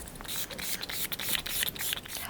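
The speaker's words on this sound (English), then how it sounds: "to set my face, I am going to go back in with the Rimmel Stay Matte Fix and Go 2-in-1" Short bursts of Rimmel Stay Matte Fix and Go 2-in-1 primer and setting spray mist onto a face, several close hissing spritzes in quick irregular succession with no talking.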